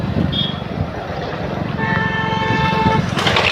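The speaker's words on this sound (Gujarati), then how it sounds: "આ રેલવે ફાટક છે ગાઈસ." A train passes at a railway level crossing by Sithol crossroads near Bodeli, with a steady rolling rumble and a sustained horn-like tone partway through, among roadside noise and some voices.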